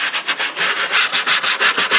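Close, loud scrub brush rubbing back and forth on the dirty spare tire well of a car, a steady rhythmic swishing scratch of bristles about four strokes a second, with no voices.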